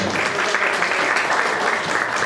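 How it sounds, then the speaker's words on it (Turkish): A festival crowd gives a speaker's entrance loud, sustained applause, a thick wash of clapping that stays steady throughout with no break. "Güçlü alkışlarınızla Pınar Sandıkçı geliyor."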